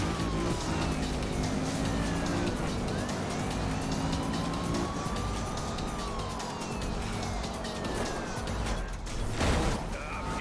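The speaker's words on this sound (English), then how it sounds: "you're driving a police car" A police car siren wails in the Need for Speed Rivals racing game, rising and falling tones running over loud continuous engine and road noise during a pursuit, with a sharp burst near the end.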